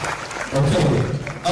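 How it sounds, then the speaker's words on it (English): Applause rises from the audience at a formal event after a company's managing director is introduced, a steady clatter of clapping with a voice speaking over the start. "Please round of applause for them"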